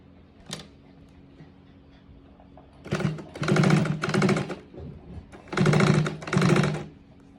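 A sewing machine runs in several short bursts, stitching an elastic waistband onto joggers, with a brief tap first, then four quick rattling runs separated by pauses.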